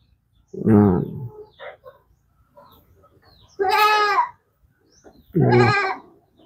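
Three loud goat bleats, nasal and wavering, sound close by with short pauses between them and quiet softer noises in the gaps.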